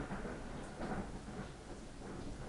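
Thunder from a passing storm rumbles steadily and fairly loud through the whole stretch, with broad low swells and a rain-like hiss on top, and no voices over it.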